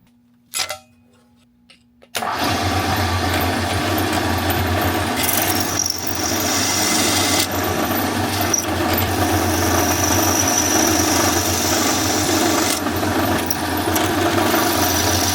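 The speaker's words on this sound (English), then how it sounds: "I decided to give my 2 handle scales a quick turn on the belt sander" A belt sander starts with a click and runs at a steady loud roar while knife handle scales are pressed against it, with slight shifts in pitch as the workpiece is pushed in.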